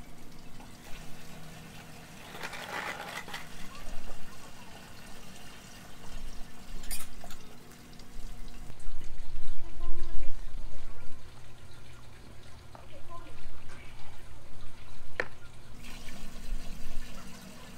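Water runs into a Tower Garden vertical planter's reservoir, a steady trickling and pouring stream that shifts in pitch partway through as the level rises, with a person talking over it at times.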